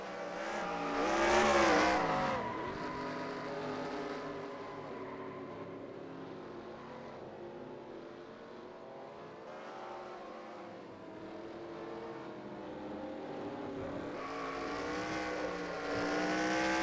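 Racing trucks roar around Iowa Speedway in a regular season finale, engine tones rising and falling as they pass, loudest early on, then a steady distant drone with pitch sweeps and another swell near the end.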